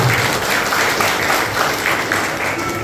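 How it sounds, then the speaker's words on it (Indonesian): Audience applause at a Christmas worship service in Indonesia, a steady wash of many hands clapping at moderate loudness, sustained and fairly even throughout with no talk over it. "Sekali lagi mari kita beri tepuk tangan untuk Wira."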